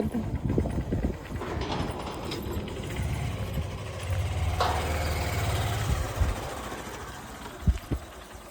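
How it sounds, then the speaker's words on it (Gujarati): A motorbike engine ticks over at idle nearby, a steady low rumble with a faint rattling throb, joined by a few louder knocks and clunks toward the end. "પપ્પા જો બાઇક ચાલુ કર્યું"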